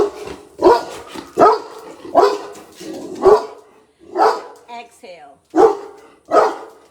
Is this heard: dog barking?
yes